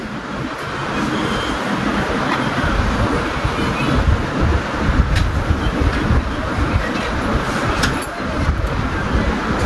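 A sewing machine running steadily in a tailoring class as it sews forward and reverse stitches along a seam, giving a continuous close, dense mechanical whir with faint ticking throughout and no talk.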